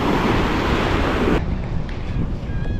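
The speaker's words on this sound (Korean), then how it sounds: "바람 진짜 잘 불어" Strong wind roars across a Miami beach with heavy microphone buffeting, steady and loud throughout, mixed with rushing surf.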